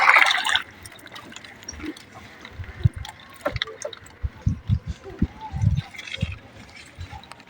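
Freshly picked water lilies are swished and splashed in water outdoors, giving irregular soft sloshes and drips, with a voice talking briefly at the start.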